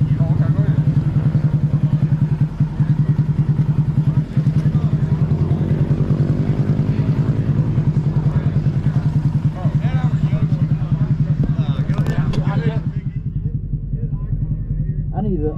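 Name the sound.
motorcycle exhaust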